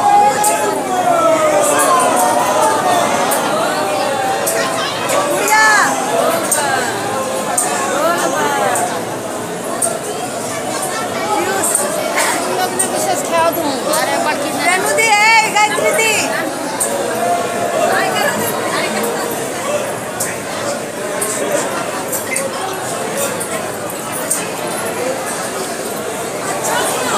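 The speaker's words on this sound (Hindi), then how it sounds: "देखिए कितनी भीड़ है" A big crowd at the Deoghar temple chatters in dense, continuous babble, with many voices overlapping close by and steady throughout, a siren-like tone faintly woven in.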